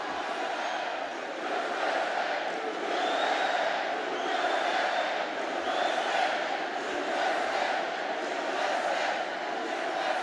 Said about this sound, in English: Crowd in beast mode. They won't shut up.